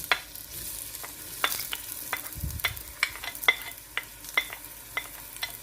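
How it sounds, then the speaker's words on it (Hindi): Onions frying in hot oil for beef nihari: a soft sizzle with repeated crisp spoon clicks and scrapes against the pot, close and irregular, plus a brief low thump midway. "अब ऑयल गरम हो रहा है और इसमें हम ये प्याज डाल रहे हैं।"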